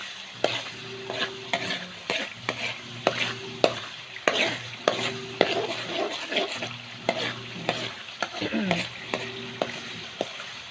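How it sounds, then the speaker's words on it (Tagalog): Homemade coconut oil bubbles and sizzles in a pan while a spoon stirs it in repeated rhythmic scraping strokes, close and steady, with a few sharper clinks. "Haluin lang natin ng kaunti ng bahagya. Hanggang magiging brown yung ano niya."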